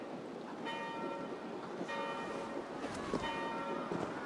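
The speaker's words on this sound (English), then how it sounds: "Do you not hear the bells?" Church bells ring out at a medieval abbey in the Viking Age Discovery Tour video game, steady metallic peals repeating over a soft background hum, moderately distant and without talk.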